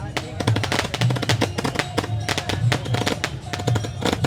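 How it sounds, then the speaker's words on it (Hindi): Fireworks at Marine Drive in Raipur during the Ram Lalla consecration celebration crackle and pop in quick, irregular bursts, loud and close, forming a dense rattling barrage with a few voices mixed underneath. "आप देखिए आतिशबाजी भी चल रही है"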